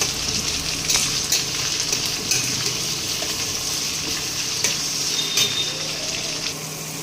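Spiced tomato gravy with chilli, turmeric, cumin and coriander powders sizzles steadily in a pan, with soft scraping stirs at a slow, irregular rhythm, close and fairly loud throughout.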